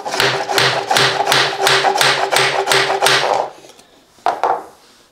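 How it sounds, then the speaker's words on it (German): A hammer taps on the back edge of a laminate or vinyl floor plank, giving about eight evenly spaced, close, hollow knocks. After a pause, two more quick taps follow, with no voices. "klopft hier hinten einfach mal auf die Rückseite drauf"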